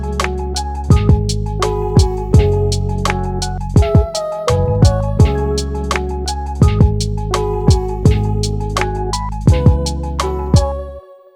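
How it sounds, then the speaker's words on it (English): A full boom bap beat from an OP-Z with all tracks combined: steady kick and snare hits over sustained bass and chord tones, a melodic line, and background percussion, loud and close, looping until it fades at the end. "this is what it sounds like with all the other tracks combined"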